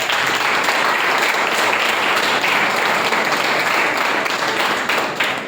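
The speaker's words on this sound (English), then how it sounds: "let's have a huge round of applause for sir" Loud, sustained audience applause in a hall at a school speaking event, a dense wash of many hands clapping continuously before tapering slightly at the end.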